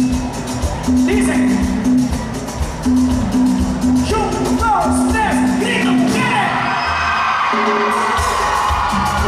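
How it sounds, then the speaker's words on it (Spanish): A concert audience at a country venue screams and whoops loudly, the female crowd roaring continuously with overlapping shouts while a steady music tone and crowd noise fill the background throughout. "Yo quiero un grito bien fuerte de las mujeres"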